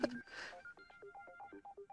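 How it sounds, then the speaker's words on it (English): In a video game, a phone line goes dead: a short burst of noise, then a run of thin electronic dial and line tones beeping in an uneven rhythm, faint and alone. "The phone goes dead."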